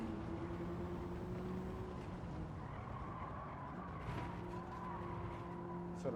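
2022 Honda Civic Type R racing at Circuit de Barcelona-Catalunya on a track with no chicane, with steady engine drone, shifting tones and tire squeal running continuously, heard from inside the car.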